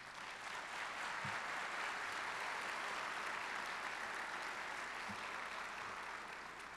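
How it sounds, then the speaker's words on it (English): Audience applause at a parish inauguration ceremony, steady sustained clapping from a crowd filling the room, heard from a distance without speech. "They got one big round of applause for our electors before we get started."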